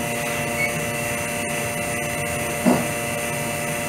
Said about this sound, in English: just the vacuum works on its own